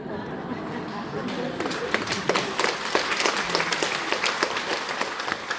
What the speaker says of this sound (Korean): 아니 여러분 박수를 칠 거면 그냥 제대로 치던가.